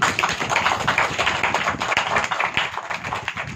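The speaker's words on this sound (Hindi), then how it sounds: "ताली तो बजाओ।" An audience at a spiritual talk bursts into sustained applause, many hands clapping in a dense, lively patter that stays strong throughout.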